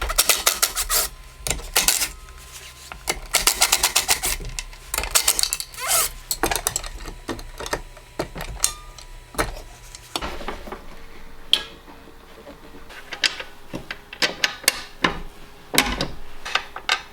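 Bolts being undone on the suspension arm of a Ford Sierra Sapphire RS Cosworth, with close metallic clinks, tool clicks and ratcheting rasps in uneven bursts, no talking.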